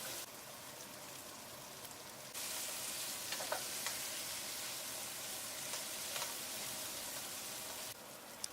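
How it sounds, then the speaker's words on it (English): Paneer frying on high heat with masala in a pot while being stirred, a dense continuous sizzle that grows louder after the opening seconds, with scattered scraping clicks from the stirring and no voices. "Fry the paneer on high heat with the masala for 3 to 4 minutes. Keep stirring the pot throughout."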